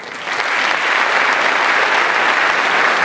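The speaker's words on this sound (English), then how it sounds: "The applause will go for Alderman Israel" Applause at the Aurora City Council inauguration for an alderman beginning his second term, a steady, full crowd of clapping that rises quickly and holds evenly throughout.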